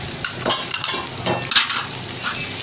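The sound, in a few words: fennel and cumin seeds roasting in a pan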